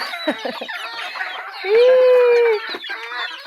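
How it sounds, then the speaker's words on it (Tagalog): Chickens clucking and squawking close by, with one long, drawn-out rooster-like call in the middle and busy farmyard chatter throughout. "usik ng mga manok ini"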